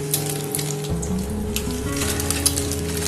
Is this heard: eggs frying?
yes